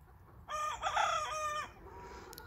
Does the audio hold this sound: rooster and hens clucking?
yes